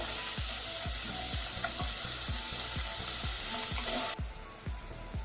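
Onions frying on a medium-high flame for bitter gourd gojju. A loud, continuous sizzle is punctuated by regular, rhythmic stirring scrapes about twice a second, and the hiss drops suddenly near the end.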